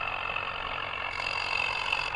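Swaraj tractor engine labouring under load in second gear in Indian Vehicle Simulator 3D, a steady, strained mid-pitched drone with no pauses, moderately quiet and even throughout.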